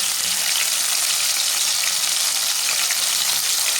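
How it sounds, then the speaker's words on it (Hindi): Sliced onions frying in a pan for a potato and onion curry, a loud steady sizzle with bubbling oil, continuous and close, no voices. "प्याजों को मैंने 5 मिनट तक फ्राई कर लिया।"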